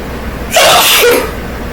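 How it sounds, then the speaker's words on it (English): One sharp sneeze, close and loud, bursts out after a quiet pause indoors in a living space, then fades back to near silence. "Try not to sneeze"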